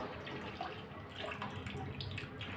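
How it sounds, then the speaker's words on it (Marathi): Buttermilk water drains off a half kilo of freshly churned homemade butter, a steady soft splashing and trickling that runs evenly for a couple of seconds with no talk. "तर आता हे ताकाचं पाणी काढायचं आहे."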